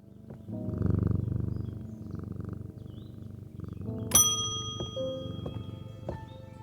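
A cat purring softly in the video game Strange Antiquities, a low steady rumble, followed by a few bright chiming dings and a metallic clang from the game.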